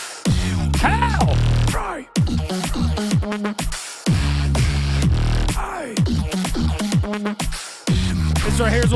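Music track with a beatboxer laying down dense, rapid vocal percussion: punchy kicks, snares and hi-hat clicks in a fast, steady groove, loud and upfront with brief breaks.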